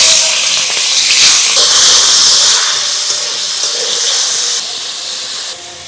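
Shrimp frying in hot oil in a kadai, giving a loud, steady hiss that swells and settles over several seconds, with no talk.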